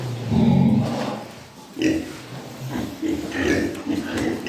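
Piglets grunt and snuffle inside a new adobe pigsty, low close oinks rising in short bursts over a murmur of background noise.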